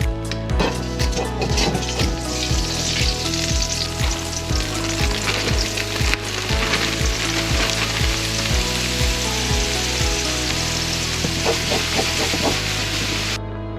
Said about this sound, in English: We're gonna break apart our mushrooms, give them a nice color, and then we're gonna take them out of the pan.